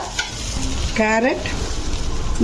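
Ivy gourd and carrot frying in a pan give a steady sizzle with stirring scrapes, while a voice speaks briefly over the cooking noise.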